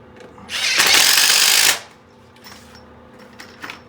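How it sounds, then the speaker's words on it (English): A hammer drill drives short quarter-inch screws into a rusty old toilet flange, giving one loud burst of whirring and grinding about a second long, followed by quiet room noise and faint clicks. "you got to have this hammer drill here"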